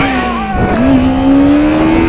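Kawasaki Ninja motorcycle engine revving hard during a wheelie attempt, a loud close drone that dips briefly, then climbs steadily in pitch as the throttle opens.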